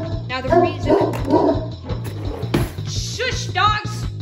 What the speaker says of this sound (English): the dogs won't stop, and the dogs won't shut up.